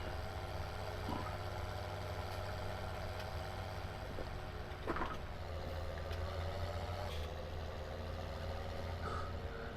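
The engine of a modded tractor idles in a farming video game with a low, steady drone that holds evenly for the whole stretch. Faint clicks sit over it, and no one speaks.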